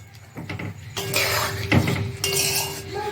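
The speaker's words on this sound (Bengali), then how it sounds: "গরম মশলা দিয়ে হালকাভাবে নাড়িয়ে নেব" A spoon stirring Rupchand fish curry in a pan after garam masala goes in, with close clinks and scraping that give way to a steady, fairly loud rustling hiss.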